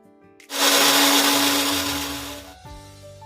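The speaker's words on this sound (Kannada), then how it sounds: "ಫ್ರೈ ಆದಮೇಲೆ ಒಂದು ಸಾರಿಗೆ ಹಾಕಿಬಿಟ್ಟು ನುಣ್ಣಗೆ ರುಬ್ಕೊಳ್ತೀನಿ" A mixer grinder kicks on abruptly and whirs loudly at a steady high pitch for about two seconds while grinding fried spices, then stops.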